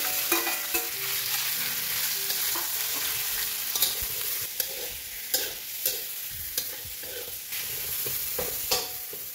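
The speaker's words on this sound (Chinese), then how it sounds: "放一点油、葱茅， 稍微爆香一下，再把牛肉再一炒。" Beef stir-frying in oil with lemongrass, a bright continuous sizzle with repeated clicks and scrapes of a spatula tossing the meat in the pan.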